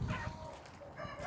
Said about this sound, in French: Donc là, un petit coq aussi.